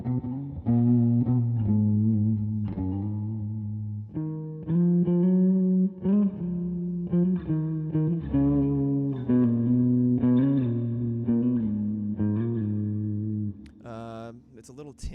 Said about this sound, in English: It's a little tinny, that reverb.